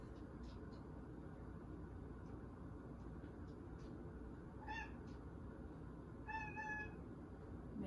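A house cat meows faintly in the background during a yoga session, two short meows in the second half over a steady low hum, distant and soft.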